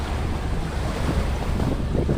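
Choppy ocean waves wash steadily onto an island beach of sand and crushed coral, a continuous close rush of surf mixed with wind buffeting the microphone, with no talking.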